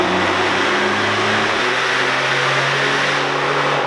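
A Jeep engine on a dyno holds a steady rev in second gear with a big tire fitted, droning loudly and evenly with a brief pitch shift partway through.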